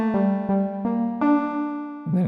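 Synth layer played back in mono in FL Studio for melodic techno, a series of bright sustained tones with sharp attacks, repeated notes stepping up in pitch, ending with a quick wobbling phrase, loud and dry without speech.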